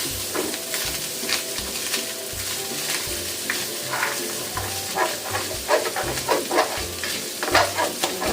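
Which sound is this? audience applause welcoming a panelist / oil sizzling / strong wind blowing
oil sizzling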